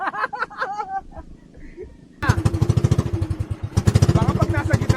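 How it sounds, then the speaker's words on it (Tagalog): A fishing boat engine struggling to run: after speech, a small single-cylinder motor kicks in with a rapid, uneven, sputtering chug that surges and stumbles, loud and close, with talk over it at the start. "Ayaw gumana ng makina."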